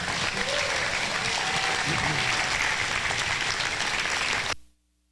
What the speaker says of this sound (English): Why don't you give these kids a big round of applause?